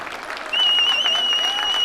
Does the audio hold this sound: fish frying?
no